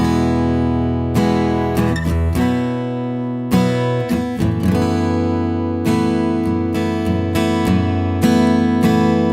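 Acoustic guitar strummed in a steady rhythmic pattern, bright chords ringing out with occasional brief pauses between strokes, played alone and close.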